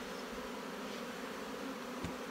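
A honeybee colony hums with a steady, dense buzz throughout an open-hive inspection of brood frames, with no talk and one brief soft knock near the end.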